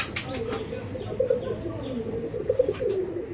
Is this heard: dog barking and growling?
no